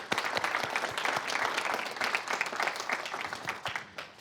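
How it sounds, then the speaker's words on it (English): A conference crowd at the Invent Penn State Inc.U startup competition claps for a few seconds, the sound moderately distant and thinning toward the end. "So let's give Annie a round of applause."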